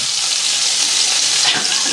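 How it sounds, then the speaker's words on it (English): Sausages sizzling loudly in a frying pan alongside bacon, a dense, continuous hiss and crackle of hot fat, close up with no talking. "now I am just throwing the sausages in"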